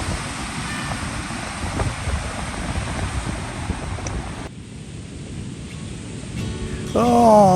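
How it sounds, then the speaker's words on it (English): Wind gusting along a beach on a camping trip, a broad steady rush of buffeting noise into the microphone that dips briefly before rising again, with a faint bird call near the end. "But the wind's starting to pick up."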